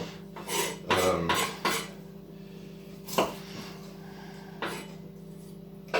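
Onions being handled and peeled on a cutting board, with a cluster of rustling, scraping and knocking sounds early on, then sparse sharp taps and clicks over a quiet kitchen background.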